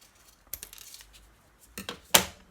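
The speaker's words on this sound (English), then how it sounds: "with some scissors, I'm going to chop off" Scissors snip off the ends of a plastic ballpoint pen ink cartridge: a few sharp, close cuts spaced apart, the last one loudest, in a quiet room.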